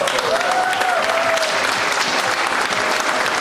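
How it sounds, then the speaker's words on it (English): Steady audience applause at a multicultural refugee festival, welcoming performers to a fashion parade; dense, even clapping fills the whole stretch with no pause. "please give them a warm round of applause to make them feel welcome"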